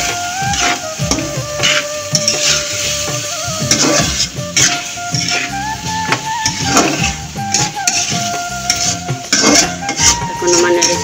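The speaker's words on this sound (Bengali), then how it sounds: "এখন আমি ডালটা নেড়ে ছেড়ে দেবো, ডালটা কিছুক্ষণ কষিয়ে নেব।" A metal spoon stirs lentils in a cooking pot, giving repeated scraping and clinking strokes against the pot, close and fairly loud, with a faint sizzle underneath.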